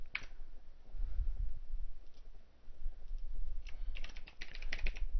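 Someone types on a computer keyboard nearby, with short bursts of soft clicking keystrokes separated by brief pauses. No voice is heard.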